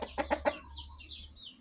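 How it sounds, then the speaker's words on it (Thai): A Burmese fighting rooster lets out three quick, low clucks in a row, then goes quiet against faint background hiss. "นี่ครับไก่พม่าเยื้อนะครับ"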